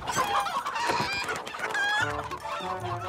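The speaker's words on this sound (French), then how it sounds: "Ça alors, par tous les pistons, ça en fait des poulets." Cartoon chickens cluck and squawk in a busy flock, with a rooster crowing among the overlapping calls, all loud and close against cartoon music, with no talking.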